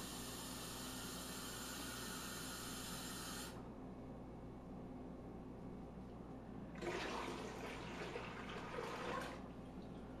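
Water pours into a brine mixture of salt and sugar for smoking a whole chicken, giving a steady rushing hiss that stops, then a second burst of splashing pour a few seconds later.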